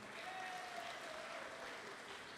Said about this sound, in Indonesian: Boleh minta tepuk tangan buat kita semua.